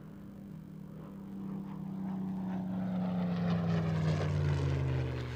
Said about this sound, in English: And we're flying in the cockpit of the Spitfire with Andy Sefton.